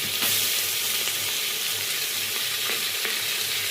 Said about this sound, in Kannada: ಟೊಮೆಟೊ ಹಣ್ಣನ್ನು ಹಾಕಿ ಸ್ವಲ್ಪ ಫ್ರೈ ಮಾಡ್ತೀವಿ.